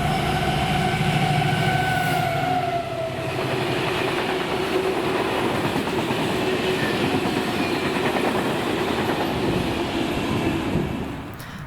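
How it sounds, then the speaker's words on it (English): A Class 70 locomotive hauls loaded aviation fuel tank wagons past at close range, a loud sustained diesel rumble with rolling wheel noise and a tonal whine that fades toward the end. "Presswick will see some unusual traction in the form of a Class 70 on 6R46 Grangemouth to Presswick loaded aviation"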